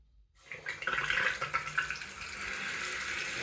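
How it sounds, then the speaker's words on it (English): A kitchen faucet fitted with a new Moen 1222 cartridge is turned on; water sputters and spits as air clears from the line, then settles into a steady close stream into the sink. "we connected everything and turned the water back on."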